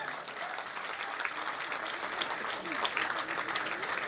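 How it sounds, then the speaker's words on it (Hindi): A crowd at an alumni meet gives a guest speaker steady, dense applause, with voices audible alongside the clapping. "जोरदार तालियां उनके लिए।"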